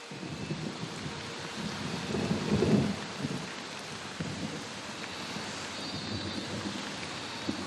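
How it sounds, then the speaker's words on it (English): Heavy monsoon rain pours down steadily while a low rumble of thunder swells and fades near the start, then the downpour continues as a dense, even hiss with no voices. "The incessant rains of the monsoon are the last straw."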